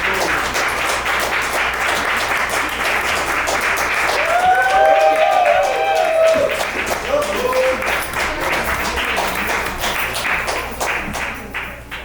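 Audience at a slam poetry open-mic night in Montreal applauding after a performance, a dense continuous round of clapping with some cheering and voices mixed in, swelling in the middle then easing slightly.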